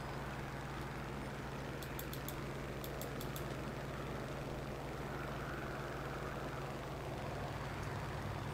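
A propeller plane engine drones in War Thunder as a steady, low, continuous hum, with a few faint high ticking clicks partway through.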